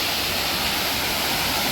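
Water rushes from a dam at high pressure, a loud, dense, unbroken roar with no voices over it.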